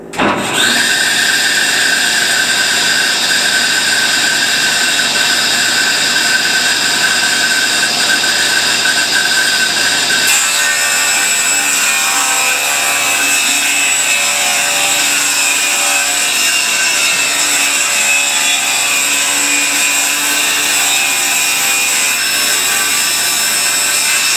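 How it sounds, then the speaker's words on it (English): Power saw cutting red barnwood outside trim pieces for a frame, a loud, steady whining cut running continuously for the whole stretch with a slight shift in tone partway through, no voices. "now I'm going to cut the outside trim with this red stuff"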